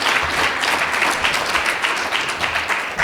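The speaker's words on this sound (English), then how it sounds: "a round of applause for that" A closing session of a democracy conference draws dense, steady audience applause, a loud, continuous wash of clapping from a large crowd that holds throughout.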